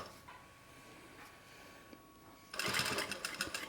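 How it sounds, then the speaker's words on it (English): A sewing machine stitches fabric for a tarot card case: after a quiet stretch of faint hum, a loud, rapid mechanical stitching rattle starts abruptly and runs close up in quick pulses to the end. "is on the bottom, and you are sewing on top"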